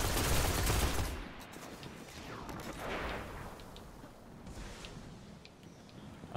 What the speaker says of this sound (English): An auto rifle is probably not good for this either, for this longish range